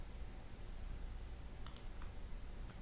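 Mouse clicks on a Windows PC, a quick pair of crisp clicks followed by a fainter single click, close and soft over a quiet background hum.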